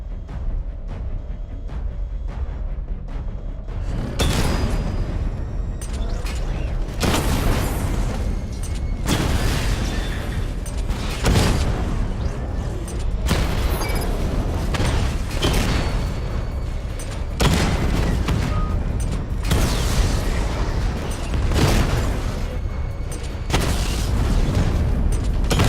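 Repeated heavy missile explosions from a missile barrage in Batman Arkham Knight, a string of loud booming blasts roughly every few seconds over a constant rumbling game backdrop, with no talk.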